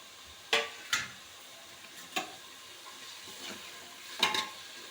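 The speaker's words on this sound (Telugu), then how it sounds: "చూడండి చికెన్ బాగా మగ్గిపోయింది. ఆయిల్ బాగా పైకి వచ్చేస్తుంది చికెన్లో." Chicken frying in oil in a pan gives a faint, steady sizzle, broken by a few sharp clinks and scrapes of a utensil stirring against the pan.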